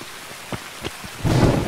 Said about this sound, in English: Oh, my God, it's scary lightning.